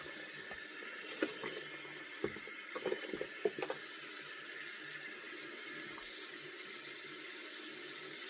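Water runs steadily from a tap into a sink while a crochet item is rinsed by hand, a soft continuous stream broken by a few brief splashes and clunks, with no talking.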